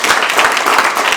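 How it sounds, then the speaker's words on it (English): Short loud round of applause for student debaters at a Black History debate, a crowd clapping steadily and close for about a second. "Let's give them another big round of applause."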